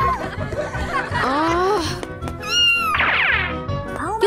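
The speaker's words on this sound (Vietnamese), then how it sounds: "Tiếng mèo kêu ở đâu vậy nhỉ?" A cat meows several times in rising and falling cries, loud and close, mixed with chuckling laughter and a voice.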